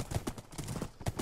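Horse hooves clip-clop in the Minecraft video game, a quick run of hollow, close knocks in an uneven walking rhythm.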